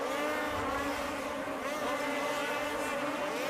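Polaris and Ski-Doo snowmobiles race in a snocross event, their engines producing a loud, continuous high-revving whine with wavering pitch as the machines push around the track.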